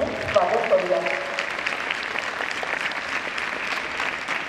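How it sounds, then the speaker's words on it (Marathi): An audience at a girls' high school Republic Day event claps loudly to welcome a guest eye specialist, a sustained, even wash of applause with a few early loud claps. "बाईंचंही आपण जोरदार टाळ्या वाजवून प्रशालेमध्ये स्वागत करूया"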